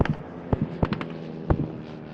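Pyrotechnic explosions at the Antidotum Airshow in Leszno simulate an SE5 fighter attacking a German base, with several sharp booms: one at about half a second, a close pair near one second, and another at one and a half seconds, over a rumbling background.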